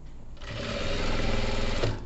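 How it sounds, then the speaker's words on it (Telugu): Close, steady whirring of a sewing machine stitching along blouse piping made from a saree strip, running continuously for about two seconds with no voices. "ఇప్పుడు ఈ పైపింగ్ పక్కనే స్టిచ్ వేసుకుంటూ రావాలి"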